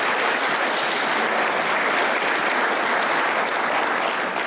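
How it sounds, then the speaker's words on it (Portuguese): A church congregation applauds during a morning service, steady dense clapping filling the whole stretch at full loudness without pause. "Será que você pode aplaudir Jesus nessa manhã?"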